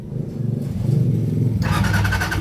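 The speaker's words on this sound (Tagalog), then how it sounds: "Ngayon paandarin natin ulit." A small vehicle engine with a replaced LED headlight cranks and catches, settling into a steady close idle rumble with a sharper buzzing layer after starting.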